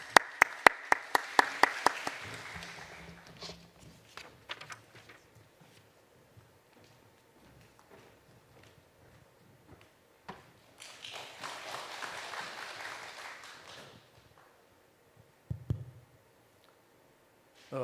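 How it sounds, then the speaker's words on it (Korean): Church gathering welcoming a man to the front: a few sharp claps open, then faint scattered sounds and a second, softer swell of congregational clapping, all fairly quiet and distant-sounding. "우리 박수로 환영하겠습니다"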